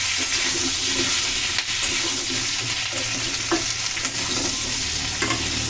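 Cauliflower, potato and tomato pieces coated in turmeric fry in hot oil while being stirred, a steady dense sizzle with occasional scraping knocks of the spoon, close and continuous, with no speech.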